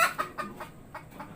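Several chickens clucking nearby in short, evenly spaced bursts, about five clucks in quick succession with no talking.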